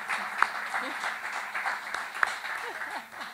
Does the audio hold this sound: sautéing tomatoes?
no